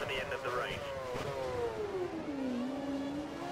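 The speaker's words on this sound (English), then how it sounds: "Oh no, but I've hit the rev limiter." Simulated Formula 1 car engine in F1 2013 racing game, a loud whining engine note bouncing against the rev limiter and then sliding down in pitch, with talk over it throughout.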